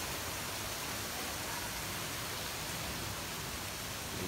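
Steady rain hisses evenly over the bald eagle enclosure at a Portland zoo, a faint, constant wash of noise with no voices or other distinct sounds.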